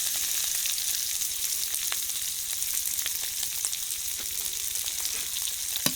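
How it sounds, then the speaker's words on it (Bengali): Sliced onions frying together with meat in a pan for a rustic village home dish, giving a steady, close, dense sizzle that runs unbroken, with faint scrapes and ticks scattered through and no talking. "এখন পেঁয়াজটার সাথে মাংসের সাথে ভাজা ভাজা করে নেব"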